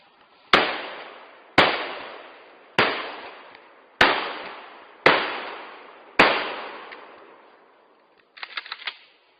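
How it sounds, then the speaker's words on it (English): A shotgun fires outdoors six times at steady intervals of about a second, each blast sharp and loud with a long decaying echo, followed by a brief cluster of faint metallic clicks. "That's why I love my shotgun."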